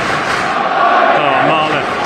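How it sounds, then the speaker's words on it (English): A rugby stadium crowd at a Harlequins match roars in a sustained, broad wash of cheering that swells slightly in the middle, loud and close throughout. "Listen to this crowd. This is a joy."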